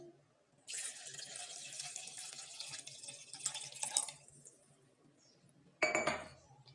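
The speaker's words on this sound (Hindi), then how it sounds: "बकिया पानी का कुछ हिस्सा मज़ीद डालेंगे" Water is poured from a jug into a blender jar while making falsa (grewia) juice, a steady splashing stream for several seconds, followed by a short clink of glass and a final brief splash.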